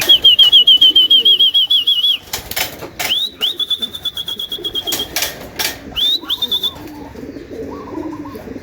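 Racing pigeons are flushed out to fly on a hot morning. Bursts of wing flapping clatter loudly between repeated chirping and cooing calls, close and clear, with no speech.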